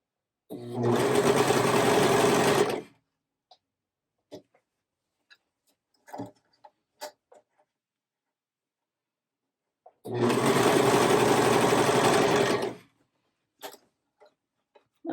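A home sewing machine runs in two steady bursts of about two seconds each, stitching a seam on a crew neck sweatshirt, with small clicks and handling sounds between runs.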